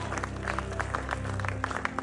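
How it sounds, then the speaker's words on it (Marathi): Audience applause at a Filmfare awards ceremony, a dense continuous wash of many hands clapping at moderate volume, steady throughout with no clear voices. "आणि जोरदार टाळ्या व्हायला पाहिजेत।"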